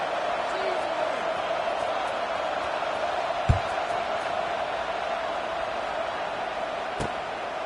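Stadium crowd in the NCAA 26 college football video game, a steady, broad murmur of many voices filling the background at even loudness, with a commentator talking over it and a couple of sharp thuds.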